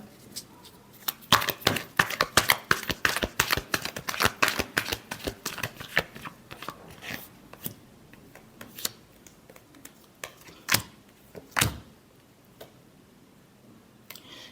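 Tarot cards are shuffled by hand in rapid, crisp riffling bursts, close and loud at first, then slowing into scattered separate flicks and taps.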